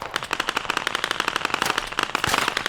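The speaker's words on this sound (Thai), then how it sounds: "เมื่อกี้ศัตรูยิงใช่ไหม" Rapid automatic gunfire from enemies in the video game Squad, a dense, loud burst of evenly spaced shots rattling close by without pause, no voices over it.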